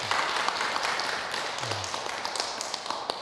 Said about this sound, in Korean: 법왕사주 실상스님께 큰 박수 한번 부탁드립니다